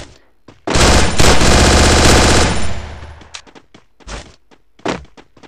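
Rapid automatic gunfire in the mobile battle-royale game Garena Free Fire during a solo-versus-squad match, a loud sustained burst followed by several shorter separate shots, with no talking.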